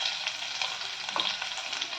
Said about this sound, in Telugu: ఆనియన్స్ని కొద్దిగా వేయించుకోవాలి.